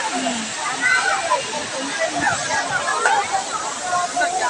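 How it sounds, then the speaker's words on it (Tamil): Loud, constant rush of the Courtallam waterfall crashing down, with people talking faintly over the roar. "தண்ணி செம்மையா விழுகுது"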